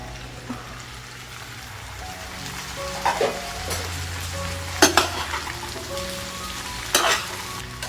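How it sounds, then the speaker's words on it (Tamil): Brinjal pieces fry in oil in a pan for Karnataka-style vangi bath, making a soft continuous sizzle with several brief louder scrapes and clatters of stirring. "கத்திரிக்காயும் இது கூடயே போட்டு நல்லா வறுத்துக்கலாம்"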